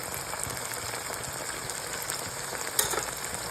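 Masala with ginger-garlic paste and mutton masala frying in a pan, a steady close hiss and sizzle with a faint scrape near the end.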